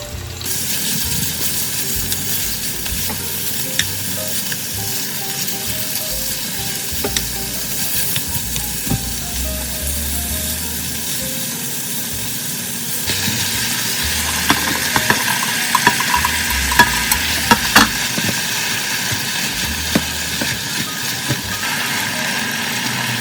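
Green onions sizzle steadily in hot homemade chili oil to make scallion oil, a loud close crackling that swells partway through, with occasional clinks and stirring scrapes.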